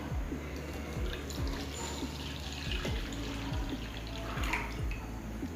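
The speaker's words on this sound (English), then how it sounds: "Here I am going to add 1 glass water into it." Water poured from a glass into soup in a bowl in a home kitchen, a soft, close trickle with repeated small gurgling drips over a faint background.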